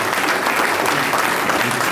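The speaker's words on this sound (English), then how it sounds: "Let us give our sister a round of applause." An audience applauds a speaker at a lecture event, dense steady clapping from a full crowd with no pause.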